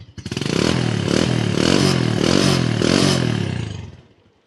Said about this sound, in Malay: nak dengar tak bunyi motor ni?